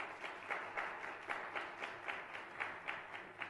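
Applause from an audience at the opening of a Korean youth demo-day competition event, soft and somewhat distant, with rhythmic clapping pulses standing out over the general patter and no talk during it.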